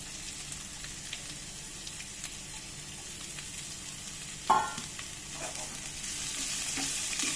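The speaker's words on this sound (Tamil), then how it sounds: "கருவேப்பிலை நல்லா பொரிஞ்ச உடனே நம்ம வெட்டி வச்சிருக்க வெங்காயத்தை போட்டுடலாம்." Chopped onions go into hot oil where curry leaves are already frying for a Tamil chicken gravy, and a sudden loud sizzle bursts up at about four and a half seconds. A steady frying hiss and faint stirring continue throughout, with no one speaking.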